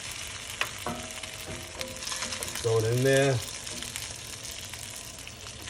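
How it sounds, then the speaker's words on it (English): Pork dumplings sear in a hot pan with a constant, crackling sizzle throughout, while someone briefly speaks nearby. "you hear that sizzle?"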